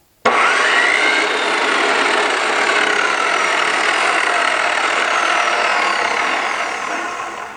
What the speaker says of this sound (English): So here's what the saw sounds like.